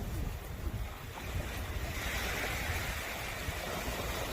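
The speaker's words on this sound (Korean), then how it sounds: "이거 파도가 오늘은 조금 있습니다" Sea waves and surf wash steadily in a broad, continuous roar along a cold-weather shore where cast-net fishing takes place, mixed with wind buffeting the microphone, with no voices.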